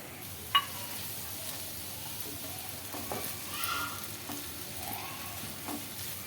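Tomato puree sizzles gently in a pan with green chillies for a chicken kofta gravy, a soft, steady frying hiss with occasional stirring scrapes and one sharp tap near the start, no talking.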